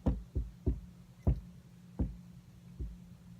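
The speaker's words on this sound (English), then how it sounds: "Behold, I stand at the door and knock." Six sharp knocks on a door, fairly loud and close, landing in an irregular rhythm with short gaps between them and nothing else heard.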